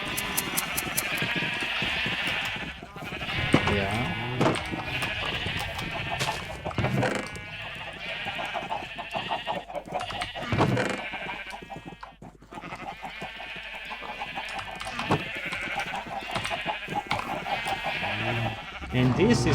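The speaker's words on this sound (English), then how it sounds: "and these are the sheep." Sheep in the Minecraft video game bleating repeatedly in short wavering calls over a steady game background, with someone talking throughout and a brief spoken word.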